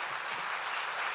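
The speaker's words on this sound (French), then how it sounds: "Vous avez le droit de l'applaudir" Brief, even applause from an audience at a political debate, a continuous wash of clapping at moderate distance without breaks.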